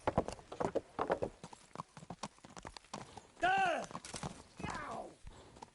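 Video game horse hooves clip-clop in an uneven rhythm while people talk over them, and a horse whinnies briefly partway through.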